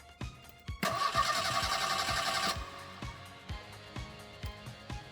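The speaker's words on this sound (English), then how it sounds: "Alright, so it cranks over." A 1986 Merkur XR4ti with a new starter and starter solenoid cranks over: a loud burst of starter whine, then a steady rhythmic chug of the engine turning without catching, close up.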